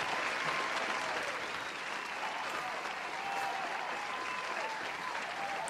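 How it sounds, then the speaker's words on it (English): Canned applause effect on a podcast, a continuous, even wash of crowd clapping at moderate level that runs steadily for several seconds without building or fading. "I'm hitting round of applause for the ladies"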